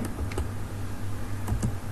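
Keys clacking on a computer keyboard while shaping an alarm clock model in 3D software, a few distinct taps over a steady low hum.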